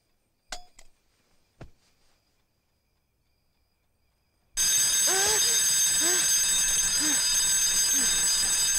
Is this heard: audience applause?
no